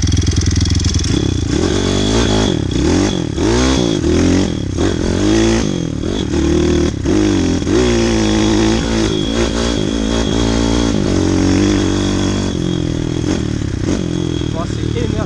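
A 160 YX small motorcycle engine, stock and with valve clearance needing adjustment, idling and revving loudly up close with a slight crackling tick, under steady conversation throughout.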